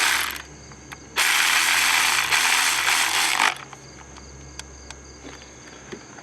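A hand ratchet tightening a bolt on a 2004 Acura engine during a misfire repair, a loud continuous rapid clicking run of a couple of seconds, then a few faint isolated clicks.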